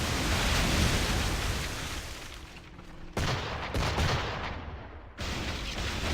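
Ship cannons firing at gunboats in the pirate game Assassin's Creed IV: Black Flag, dense booming gunfire blending into a continuous roar with a couple of abrupt shifts, loud and close, no talking.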